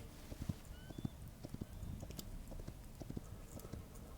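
Horse hooves clip-clop in Hytale, a quiet, irregular run of light steps close by that continues steadily with no talk over it.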